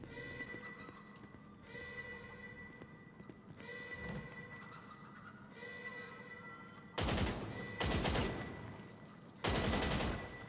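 Loud gunfire bursts in a video game, fired at a lock during a chocolate-theft heist: three dense, broadband volleys near the end, each roughly a second long, following steady game music and ambience.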